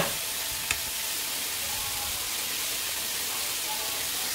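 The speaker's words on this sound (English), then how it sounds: "And then I'm going to add the butter." Butter sizzling in a pan as the base for a lobster sauce, a steady, even hiss with one small knock near the start, heard alone at moderate level.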